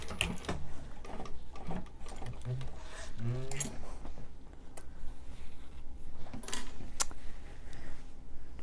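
A sewing machine runs a reinforcing line of stitching over the card slots of a fabric wristlet, a steady close mechanical whir with small clicks throughout, and no talk.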